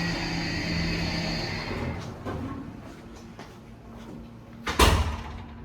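ThyssenKrupp Synergy traction passenger elevator door sliding shut in a campus health sciences building, a rumbling glide ending in a sharp thud close by, with a faint hum after.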